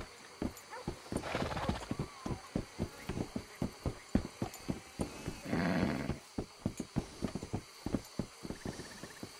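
Horse hooves clip-clopping in a steady, close rhythm in the Red Dead Redemption 2 video game, with two loud neighs and whinnies breaking through the hoofbeats.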